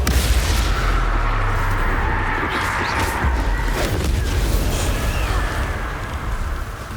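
Confringo spell explosions in the Hogwarts Legacy video game produce heavy, rumbling booms that roll together into a loud, continuous blast lasting several seconds before easing slightly.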